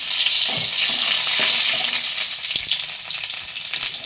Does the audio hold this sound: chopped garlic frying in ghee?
yes